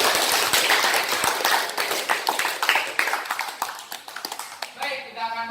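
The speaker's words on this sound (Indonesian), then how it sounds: "tepuk tangan untuk kita semua" Audience at a school debate claps, a crisp uneven patter of hand claps that thins into scattered taps before a voice starts speaking at the end.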